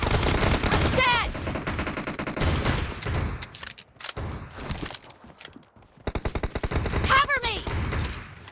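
M1014 shotgun fire in a shooter video game, loud repeated blasts in quick succession with sharp reports and bursts of rapid fire, a quieter lull in the middle, then another heavy volley, under game voice callouts.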